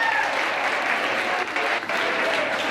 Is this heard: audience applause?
yes